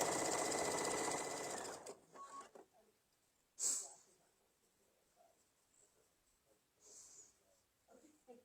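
A sewing machine stitching a fabric table runner hums loudly and steadily for about two seconds, then stops; quiet handling noises, rustles and breathy sounds follow, close by.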